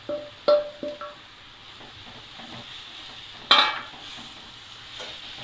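Cleaned shark meat goes into a pan of fried onions: a few sharp metallic clinks and scrapes of a spoon on the pan, then a sudden burst of hissing sizzle that fades to a quiet simmer.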